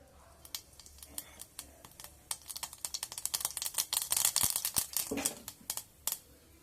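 Mustard seeds crackle and pop in a little hot oil in a pan while making toor dal sundal, a dense irregular burst of sharp close crackles that builds up and then thins out.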